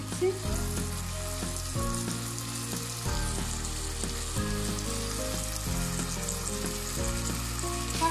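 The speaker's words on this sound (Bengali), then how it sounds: "বরবটিটাকে আমি একটু ভালোভাবে কষিয়ে নেব, চুলার আঁচটা মিডিয়ামে রেখে আমি কষিয়ে নিচ্ছি।" Yardlong beans sautéing in a pan over medium heat for a chewa fish dish, with a steady, loud sizzle of frying and repeated rhythmic scraping thuds of stirring throughout, no voices.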